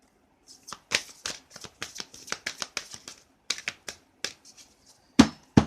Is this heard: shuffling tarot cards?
yes